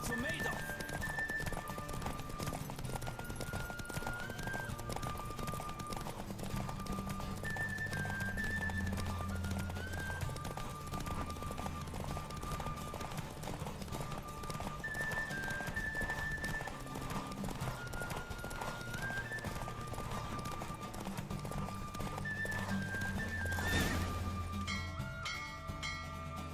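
Horses gallop in a race in The Witcher 3, steady rhythmic hoofbeats running under a music score with whinnies, and a voice talks over it near the end.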